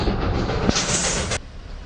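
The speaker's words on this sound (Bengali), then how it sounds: "দার্জিলিং পৌঁছাতেই টয় ট্রেনের সাথে দেখা হয়ে গেল" Darjeeling toy train rolling on its rails, a loud, close rumble with a sharp metallic clack midway, cutting off abruptly near the end.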